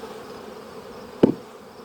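A bee zips past a beekeeper in one brief, close buzz over a soft, constant outdoor hum.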